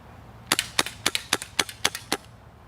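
HFC M27/28 Highway Patrolman airsoft revolver emptied in a mag dump, about eight sharp, snappy pops fired in quick, fairly even succession, close and alone, then quiet.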